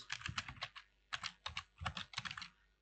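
Quiet, close keyboard typing: rapid bursts of clicking keystrokes in three uneven clusters separated by short pauses, as code is entered for an Express JS middleware example.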